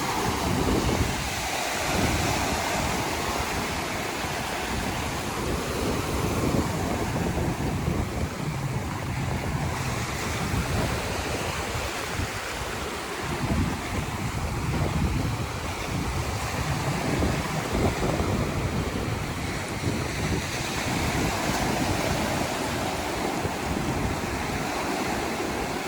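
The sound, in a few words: ocean waves at Edisto Beach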